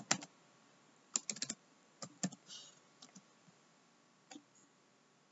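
Typing on a computer keyboard while working in RStudio: irregular clusters of close, crisp key clicks separated by short quiet gaps.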